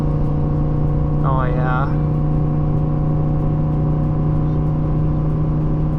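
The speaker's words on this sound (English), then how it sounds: "You can hear that engine just bog down, reach for that torque" A Ford F150 with the 5-liter Coyote V8 tows up a hill, its engine droning low and steady throughout, with a man's brief remark over it.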